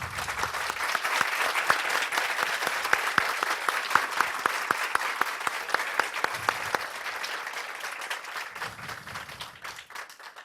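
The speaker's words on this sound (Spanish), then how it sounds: "para el que les pido un aplauso" Steady applause from an audience welcoming Alan Wallace before a talk on Buddhist perspectives on depression; even, moderately distant clapping that continues for about ten seconds and tapers slightly at the end.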